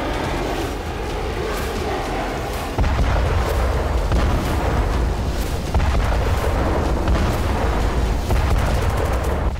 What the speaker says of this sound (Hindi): ये FAB-500 बम का धमाका था।